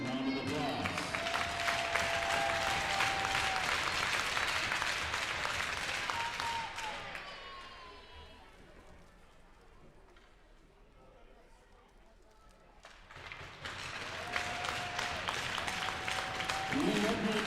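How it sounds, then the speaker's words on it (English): Crowd applause at a youth hockey game in a rink, loud sustained clapping that fades to a quiet lull midway and then swells again, with announcer-style voices mixed in. "Let's give Jason a round of applause."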